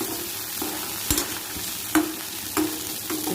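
Stuffed brinjals fry in oil for a gutti vankaya curry, with a constant close sizzle and a few distinct knocks or stirs against the pan.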